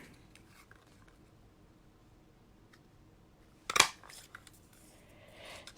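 Scissors snip once through card paper during card making, a single short crisp cut standing out from a quiet tabletop background.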